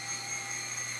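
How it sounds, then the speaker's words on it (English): A 20-year-old radio-controlled model helicopter flies nearby, its motor and rotors giving a steady, even whine with a constant tone over a brief moment. "Yeah, a 20-year-old RC helicopter."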